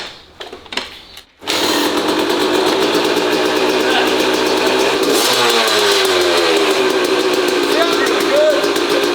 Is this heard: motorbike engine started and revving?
yes